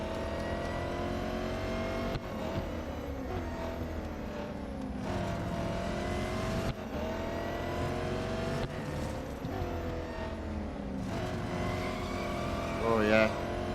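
In the video game Real Racing 3, a race car engine drones loudly and continuously. Its pitch climbs and drops sharply at each gear change, with a tire squeal near the end.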